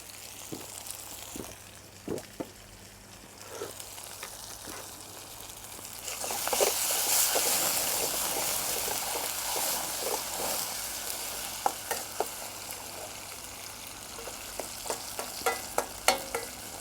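Curry ingredients frying down in oil, a soft steady sizzle with scattered light stirring taps, swelling to a louder hiss midway before settling back, with no one speaking.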